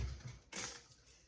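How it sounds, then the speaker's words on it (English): A brief, dry crackling crunch as dehydrated celery leaves are crushed by hand, a single short burst in an otherwise quiet moment. "I just crumple them in my hand."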